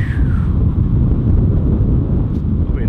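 Wind gusting outdoors on a flying day for an Eachine Wizard X220 FPV drone, a steady loud rushing buffet against the microphone that fills the whole stretch.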